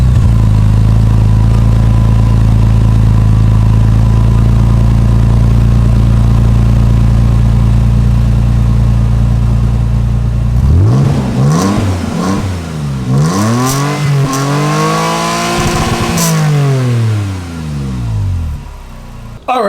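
A 2017 Toyota Tacoma with a Magnaflow Overland exhaust, pipe cap only, idles loudly and steadily up close, then revs repeatedly in rising and falling sweeps for several seconds, deep and aggressive with no talking.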